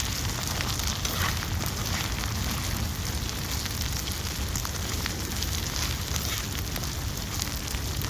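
Ginger garlic paste sautéing in a pan for a squid masala gives off a steady, dense sizzle that holds evenly throughout, with no voices.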